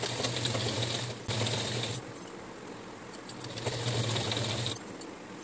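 A sewing machine stitching a folded churidar hem, its motor whirring steadily in close bursts with brief pauses and changes in speed, alone without talking.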